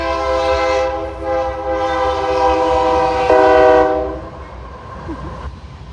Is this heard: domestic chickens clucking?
no